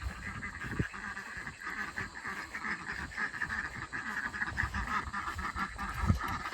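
Ducks quack and chatter continuously at close range over a steady outdoor background, with a couple of louder bursts.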